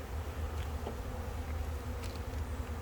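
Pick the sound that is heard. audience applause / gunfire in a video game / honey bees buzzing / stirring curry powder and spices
honey bees buzzing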